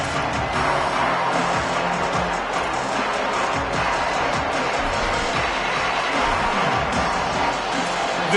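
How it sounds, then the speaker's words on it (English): Stadium crowd at a football game, a loud, steady roar of cheering voices filling the space throughout, with a broadcaster talking over it. "This crowd ready to make its presence known."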